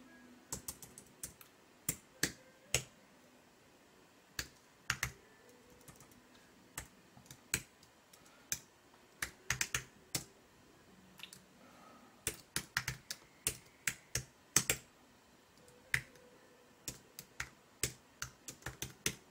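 Typing a command on a computer keyboard while making a bootable USB drive: irregular bursts of crisp key clicks with short pauses between, close and fairly quiet, no talking.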